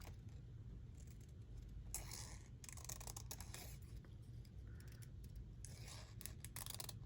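Scissors trimming paper in a craft project, several quiet snips and slices over a steady low background hum.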